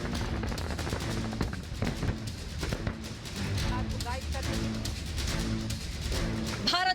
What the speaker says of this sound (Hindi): राजस्थान के पोखरण में स्वदेशी हथियारों का प्रदर्शन, जवानों ने दिखाया दुनिया को दम